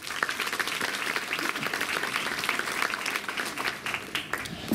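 Sustained, dense applause from a concert audience honoring city councillors at a New Year's jubilee concert by the Lubawa municipal brass orchestra, steady and loud throughout without a break.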